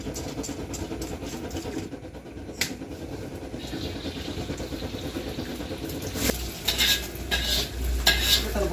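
Nasi goreng fried rice is stir-fried in a pan at a street food stall, with steady scraping and sizzling that grows louder and busier near the end, alongside clattering of utensils and a faint background hum.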